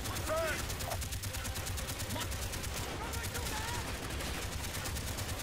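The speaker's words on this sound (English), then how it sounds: "I'm gonna get on an MG quick" A mounted machine gun in the video game Call of Duty Black Ops fires in a continuous rapid stream of shots. The fire is fairly quiet in the mix, with a voice faintly underneath.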